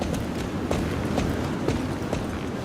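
Horse hooves clip-clop in a steady, even rhythm in the Star Stable video game, loud and close, with a dense background bed of game ambience behind the footfalls.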